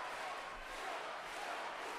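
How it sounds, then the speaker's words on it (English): A crowd at a men's sabre fencing world championship final in Budapest roars and cheers in a steady, dense wash of voices. "The crowd really trying to lift Satmari here."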